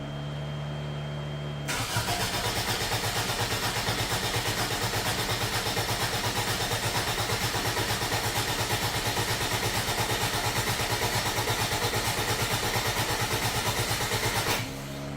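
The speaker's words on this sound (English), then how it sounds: "let's see if this thing fires up." A 1990 Toyota Tercel's carbureted engine is cranked after a fuel tank replacement: a steady, rhythmic starter churn runs loud and unbroken for about thirteen seconds without catching, then cuts off.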